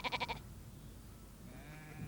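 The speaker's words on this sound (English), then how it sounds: "Auntie Ellie is an ewe. That's the proper name for a female sheep" Ewes bleat on a farm, a quick pulsing call up close followed by a fainter, drawn-out bleat from farther off.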